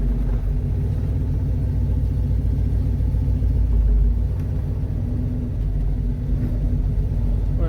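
A Chevy truck rolls slowly in its lowest gear on a blown tire, a steady, loud low engine rumble droning close by throughout with no speech.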